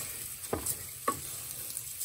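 Risotto rice sizzles as it fries in a pan for mushroom risotto, a soft steady hiss broken by two brief scraping stirs, fairly quiet with no voices.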